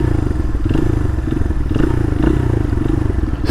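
A street-legal dirt bike with a freshly rebuilt top end runs loud and close, its engine holding a steady throbbing note with slight throttle swells and a faint mechanical clatter.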